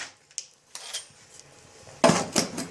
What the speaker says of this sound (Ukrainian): Закриваємо пробкою наш запальник.